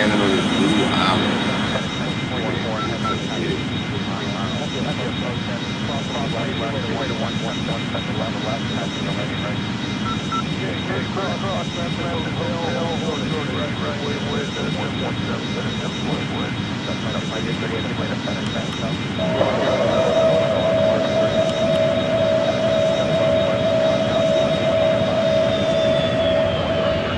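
Airbus A310 jet engines on landing approach in the Airline Commander flight game, a steady loud whine and roar held throughout, the tone shifting partway through.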